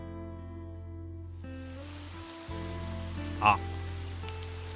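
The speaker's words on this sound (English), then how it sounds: "Finally started to rain after everything was already over." Rain begins falling in the visual novel game Summer Pockets Reflection Blue, a steady soft patter swelling in over a low musical drone, with one brief chime-like accent and a short spoken exclamation.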